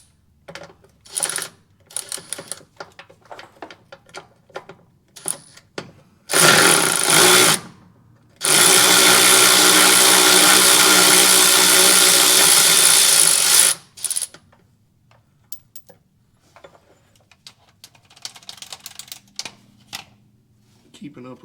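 Removing a crossmember bolt from a 1949 car, a loud power tool buzzes in two bursts, one short and one lasting about five seconds, among scattered metallic clinks and handling noises, with someone talking.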